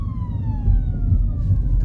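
An ambulance siren wails on a busy multi-lane road in Osasco, São Paulo, as a steady falling tone over low traffic rumble, fairly close.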